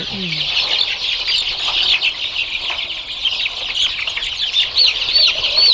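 A dense, continuous chorus of peeping from a flock of one-month-old chicks on a poultry farm, with occasional clucks rising out of the steady crowd noise and no one speaking.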